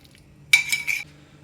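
Chicken being mixed with salt and lemon juice as a marinade for butter chicken; a brief metal-on-bowl scrape and clatter lasting about half a second, close, in a quiet room.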